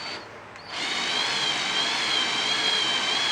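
A mill attachment cuts into metal: after a brief quieter lead-in, a steady, loud high-pitched whine of the cutter holds at a constant pitch for several seconds, with no one talking.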